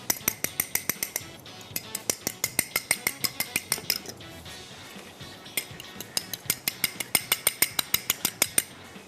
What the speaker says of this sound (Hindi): ये इसको अच्छे तरीके से विस्क करना है। ये फोर्क